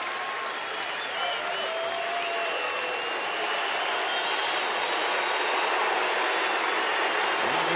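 Baseball stadium crowd at a Rangers–Angels late-season tiebreaker game in Texas, 2013, roaring and cheering steadily as a two-strike count builds, a dense, sustained wash of voices and applause with no commentary over it.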